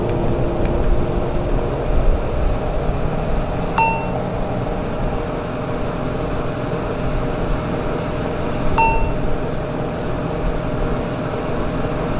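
An ERJ jet engine spools up in Flight Simulator X during an airliner start, a loud steady roar and whine that runs the whole length with faint clicks, and no talking over it.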